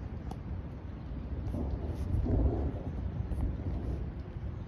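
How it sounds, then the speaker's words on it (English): A low, rolling rumble of thunder from an intense supercell thunderstorm over Hooksett and Manchester, New Hampshire, builds and lingers, with a steady wash of rain and wind noise underneath. "A very intense thunderstorm."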